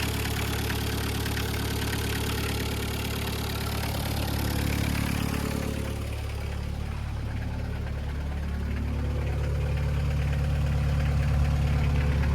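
A 1.9 diesel car engine idles steadily and close, a continuous low rumble with a slight shift in tone midway, with no talking over it.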